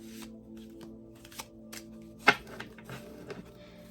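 An oracle card deck being cut and shuffled at close range: soft riffling and sliding with a sharp snap of cards partway through, over a faint steady hum.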